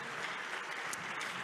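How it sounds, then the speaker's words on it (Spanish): Church congregation at an evangelical service in Houston gives strong applause, a dense, continuous roar of many hands clapping at once, steady and fairly distant, with no speech. "Fuerte, fuerte, fuerte el aplauso."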